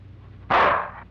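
A single loud dog bark bursts out in a Filipino action film scene, one sharp broadband yelp that trails off within about half a second over quiet background hum.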